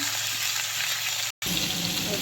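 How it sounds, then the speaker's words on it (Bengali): Potatoes and amaranth stems sizzling in hot oil seasoned with panch phoron, a loud close crackling hiss with a brief cut of silence midway, then the frying resumes with faint stirring scrapes. "পাঁচফোড়নটা গরম হয়ে গেলে দিয়ে দেবো কেটে রাখা আলু আর ডাঁটা দিয়ে সুন্দর করে নেড়ে হালকা হালকা করে ভেজে ফেলবো"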